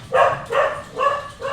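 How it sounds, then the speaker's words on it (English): A dog barks four times in an even rhythm, each bark short and sharp, nearby and fairly loud, heard indoors in the background of a home setting. "Pardon the barking."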